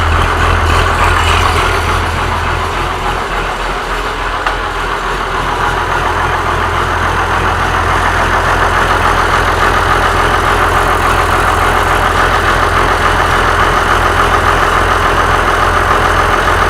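An old engine that had sat unused for a long time runs at a steady, loud idle close by, its low rumble and rough mechanical chatter continuing evenly throughout.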